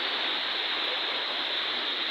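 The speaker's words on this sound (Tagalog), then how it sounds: "Umuulan pa, malakas ang ulan." Heavy typhoon rain from Typhoon Kristine pours down alongside floodwater, making a dense, steady roar that never lets up, close and loud, with no voices.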